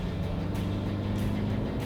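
A Toyota Fortuner 2.8 4x4 engine pulls hard under acceleration, a close, loud, steady rumbling drone with no voices.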